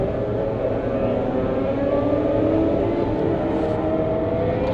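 A motorcycle engine revving hard as the bike pops a wheelie, a steady loud droning roar with a rising pitch, no talking.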